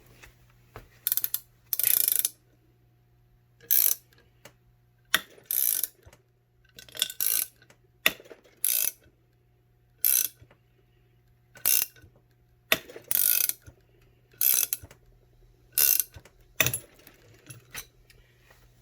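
Ratchet clicking in short repeated bursts while turning a puller bolt to pull a bearing from a Ford tractor hydraulic pump, loud and close with quiet gaps and a steady low hum underneath.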